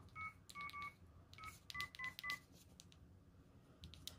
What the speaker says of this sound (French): Je vais devoir composer son numéro.